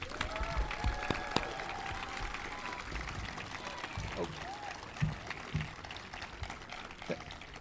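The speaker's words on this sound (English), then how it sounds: "I ask everyone here to join me to give Zoe and Harrison a round of applause" Scattered applause from an audience at an outdoor grand opening ceremony for a resiliency park in Hoboken, moderately faint, with some thumps and background noise.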